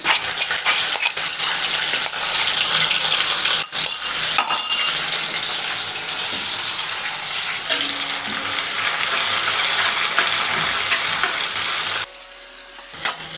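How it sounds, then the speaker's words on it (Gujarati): Garlic and chili paste sautés in a hot pan with a loud, continuous sizzle up close, broken by a few utensil scrapes and clinks as it is stirred. The sound drops off abruptly near the end. "હવે તેની અંદર લસણ મરચાંની પેસ્ટ ઉમેરી પેસ્ટને સાંતળીશું"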